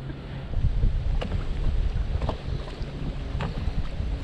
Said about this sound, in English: It's a bit windy, is it?